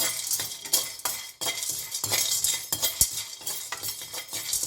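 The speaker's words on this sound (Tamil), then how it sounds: "அடுத்து நாங்கள் மஞ்சளை போட்டு வறுக்க போகிறோம்." Broken turmeric pieces being dry-roasted in a pan for Jaffna curry powder, with continuous scraping and rattling stirs and occasional metallic clinks of the utensil against the pan.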